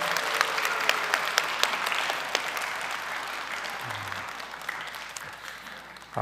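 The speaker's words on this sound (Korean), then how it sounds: "우리 하나님께 영광 돌리는 의미에서 큰 박수로 주님께 올려드리겠습니다." A church congregation at a Christmas service applauds loudly and steadily, dense clapping that fills the room and slowly thins out toward the end.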